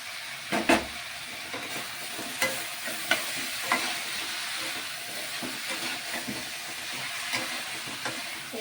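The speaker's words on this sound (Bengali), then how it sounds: "এই যে ভাজা আলুটা ভেজে রেখেছিলাম, এখন এটাকে আমি দিয়ে দিব।" Fried potatoes stirred into a sizzling Bengali lotus-stem and dried-fish curry, a steady close frying hiss broken by scraping spatula strokes and clinks at irregular intervals, with no voices.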